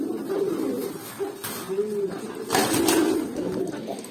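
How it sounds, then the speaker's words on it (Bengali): Jhuma pigeons coo steadily at close range, low throaty rolling calls repeating through the whole stretch with a few rustles and flutters, no voices over them. "রাখেন এটার সাথে আর একটা ঝুমা কবুতর ছেড়ে দেই।"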